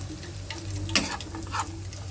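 Chopped vegetables with chili frying over low heat in a pan for chicken chili, a soft continuous sizzle broken by a sharp scrape and a few clinks of stirring.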